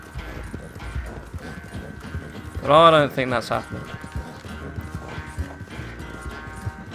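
Horse hooves clip-clop in Red Dead Redemption 2, a soft steady trotting rhythm running under game sounds while someone talks over it.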